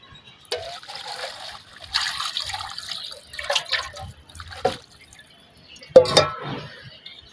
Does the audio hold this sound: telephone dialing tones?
no